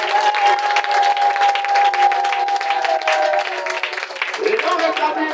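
A church congregation applauds during a sermon, a loud, sustained wash of clapping filling the whole stretch with a steady tone beneath it.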